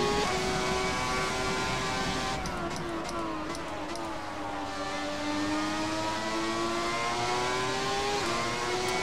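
A Ferrari 412 T2 race car from 1995, driven in the video game F1 2017, holds a steady high-pitched engine whine that dips slightly and climbs again, continuous throughout with faint clicks.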